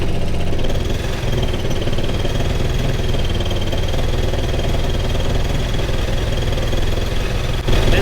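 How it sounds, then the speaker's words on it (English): 2019 Yamaha GP1800R WaveRunner four-stroke engine running with a misfire: a loud, close, rough, uneven engine drone with slight wavering, ending in a brief dip and jolt near the end, and no talking. "On modern four-strokes, when you get a misfire like that, it's usually because of the spark plugs."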